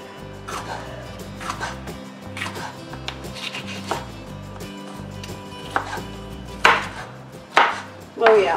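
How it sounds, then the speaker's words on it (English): A knife chopping food on a cutting board in a home kitchen while making a one-skillet ramen noodle dish, with soft, repeated cuts that end in a few sharper, louder chops near the end. "I'm going to be cutting them like that and then just cutting them in half."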